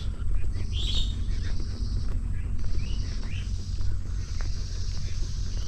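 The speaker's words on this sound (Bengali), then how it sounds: "পাখির সাউন্ডই মন পাগল হয়ে যাচ্ছে" Birds chirp and call intermittently along a countryside road lined on both sides with large jamun trees, the calls fairly clear above a steady low rumble of wind or movement.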